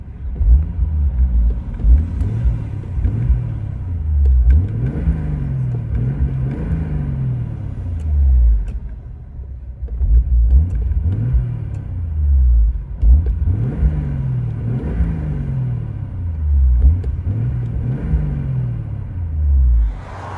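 Toyota Supra engine heard from inside the cabin, a loud continuous rumble that repeatedly rises and falls as the engine revs up and settles back down, with no talking.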